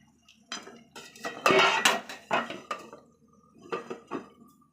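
Home-cooked food being stirred in a metal pot after spices go in, a series of close, scraping clanks and knocks of a utensil against the pot in uneven bursts with short pauses, no talking.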